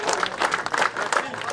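Brief burst of clapping from a crowd at a volleyball club evening gathering, fairly loud and uneven, with voices mixed in.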